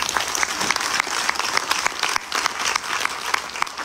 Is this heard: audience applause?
yes